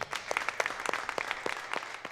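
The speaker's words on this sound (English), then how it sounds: "Give them a round of applause." A small audience applauds dance competitors after a Myrtle Beach junior duet and trio award, with scattered, uneven hand claps at moderate distance and no voices.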